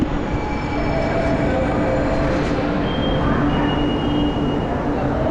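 A constant rumble of a metro train fills MGR Ramachandran metro station in Chennai, with faint squeals and hums of the rail, while a voice speaks quietly in the background.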